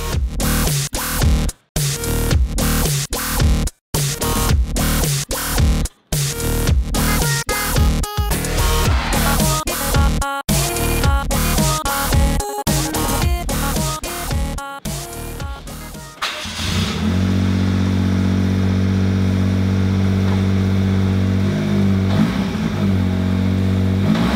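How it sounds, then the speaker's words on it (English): A Daihatsu Mira engine with a homemade 2.5-inch stainless exhaust starts with sharp, staccato bursts and stuttering pops, then settles into a loud, steady, deep idle rumble. "I can start the car up and hear the sound of my freshly homemade exhaust"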